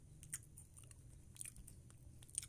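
Crispy crepe rolls with pineapple cream bitten and chewed close up, several sharp crunches at irregular intervals over quiet, soft mouth noises.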